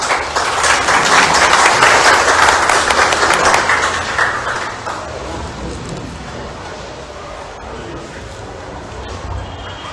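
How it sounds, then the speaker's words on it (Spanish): A crowd at a press conference applauds loudly, steady clapping swelling at first and then thinning out toward the end. "y lo recibimos con fuertes palmas también."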